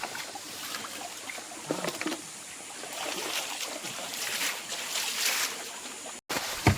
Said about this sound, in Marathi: तर मित्रांनो आपण आता उपसायला सुरुवात केली आहे